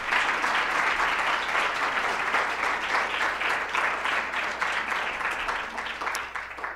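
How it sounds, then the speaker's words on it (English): An audience applauds steadily at a ceremony, a dense, sustained patter of clapping that fades slightly toward the end, with no voices over it. "Applaud now."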